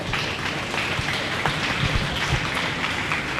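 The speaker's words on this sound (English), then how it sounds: "Let's give these kids a round of applause." Applause for children in the intermediate showmanship class at a county fair dairy and beef cattle show, a steady patter of clapping from the crowd, moderately loud and continuous.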